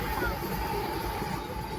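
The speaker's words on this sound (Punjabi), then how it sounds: "ਦੂਜੀ ਵਾਲੀ ਟ੍ਰੇਨ ਆ ਗਈ" A train rumbles steadily nearby, a continuous low roar with a faint tonal hum, and no clear break in the noise.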